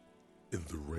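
Rain pours down in the rain-swept streets of Jamrock in Disco Elysium, a broad hiss that bursts in halfway through and stays loud and steady after near silence.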